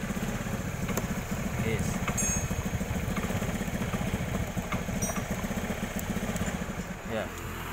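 Honda Beat scooter engine idling steadily with a rattly, putting hum during a charging-system check, then dying out near the end; a voice speaks briefly.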